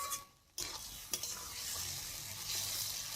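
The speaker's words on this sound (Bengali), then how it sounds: "এইবার আমি একটু নাড়াচাড়া করে কষিয়ে নেব।" Vegetables for Bengali shukto being stirred and sautéed in a pan, with a soft scrape of the spoon followed by a steady, gentle sizzle. Occasional light knocks come through, close and quiet, with no one speaking.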